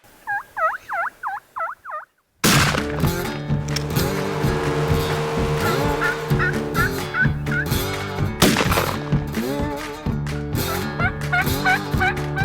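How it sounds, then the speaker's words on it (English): Repeated high turkey yelps at first, then a loud rumbling engine drowns the scene while distant wild turkey gobbles break through now and then from a canyon. "No shortage of gobblers."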